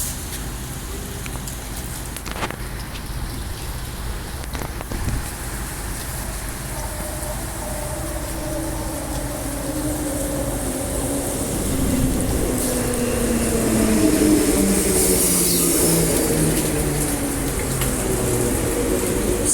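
The last Midland Line train bound for Perth departs from Bayswater Station, its low rumble and falling whine building then sweeping past over steady outdoor background noise, with no talking.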